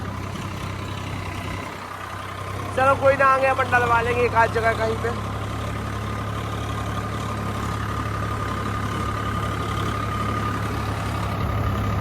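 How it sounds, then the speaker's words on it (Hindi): A tractor hauling a fully loaded trolley, running on a badly underinflated tyre, idles with a steady low engine hum throughout, while someone speaks briefly over it. "ट्रैक्टर ऐसा चल रहा है,"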